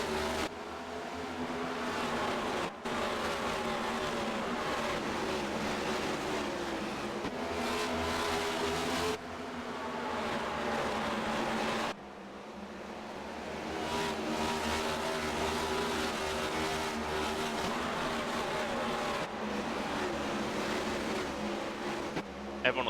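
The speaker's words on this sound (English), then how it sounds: "Thunder Valley is alive with the sound of 27 race cars." A field of 27 race cars racing at Bristol Motor Speedway, a continuous loud roar of engines rising and falling as the pack circulates, with brief cuts in the sound and no talk.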